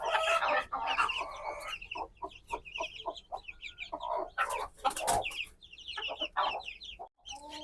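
A native deshi hen clucks steadily near her growing chicks, whose thin, high peeps chatter over and between her calls; the mix is close, busy and irregular, with a few louder squawks.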